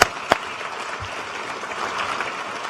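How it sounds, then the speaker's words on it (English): Scattered applause fills a conference hall, opening with a couple of sharp close claps before settling into a soft, even patter from the audience. "Big round of applause for Lee."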